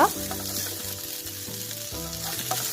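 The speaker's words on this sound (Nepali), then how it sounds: "यो तातो पानीमा भिजाएको खुर्सानीलाई पनि हल्कासँगले म भुट्दैछु" Soaked chillies sizzle steadily in a hot pan while being fried for a chicken pickle, a close, continuous crackle with no talking.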